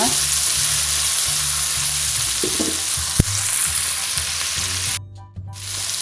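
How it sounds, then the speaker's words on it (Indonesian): Red and green chillies and hot chillies sizzle loudly in a frying pan while being stirred, a dense continuous crackle with scraping strokes and a brief knock, dipping momentarily near the end. "Tinggal diaduk-aduk sampai matang ya."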